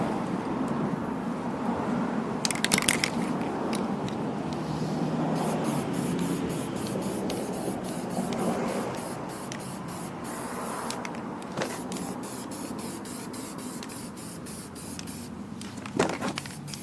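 Spray paint hissing onto lawn mower wheels of a Snapper Ninja mower during restoration, close and steady in long continuous bursts with brief pauses and sharper spurts between.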